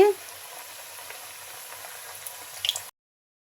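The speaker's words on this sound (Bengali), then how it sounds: "সেজন্য আস্তে আস্তে ভেজে নিতে হবে অল্প জালে" Dal pakon pitha frying gently in oil over low heat, a steady soft sizzle with faint crackles, close and continuous, rising briefly near the end before cutting off.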